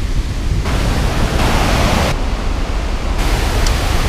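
A fast-flowing river in Sri Lanka, heard from the water's edge, makes a loud, continuous rushing roar that swells and eases slightly without any break.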